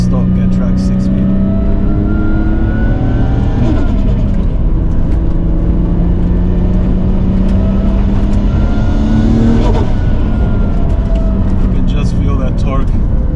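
A Nissan R34 GT-R with a stock Getrag six-speed manual gearbox revs up hard. The loud, close engine note climbs steadily, drops at a gear change and climbs again.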